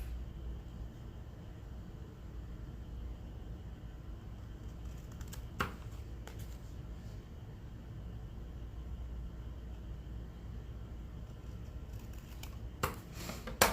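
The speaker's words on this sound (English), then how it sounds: "So let's cut the corners off." Scissors snip the corners off paper sewing pattern pieces, a few quiet crisp cuts at scattered moments over a faint background hiss, close and soft, with no talk.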